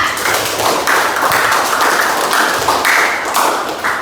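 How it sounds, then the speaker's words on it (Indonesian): Classroom applause for group 4, a steady crowd of students clapping together with a fairly regular rhythm, close and loud throughout with no talking. "tepuk tangan untuk kelompok 4"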